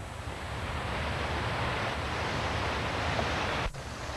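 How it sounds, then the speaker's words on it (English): Runoff from a small pipe along a flooded stretch of the PA Turnpike rushes steadily as a dense, continuous broadband wash, loud and close, with no voices. "You can actually hear the amount of running water coming from the one small pipe"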